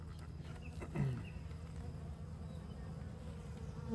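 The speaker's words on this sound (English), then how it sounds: "they got a good population of bees going" Continuous low buzzing of many honey bees around a hive, steady and fairly faint, with a few louder buzzes passing close by.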